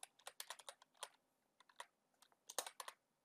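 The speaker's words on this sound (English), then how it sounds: "And now you're going to type in the captcha." Quiet, close computer keyboard typing of a captcha, a quick run of light key taps in irregular bursts with a short pause midway.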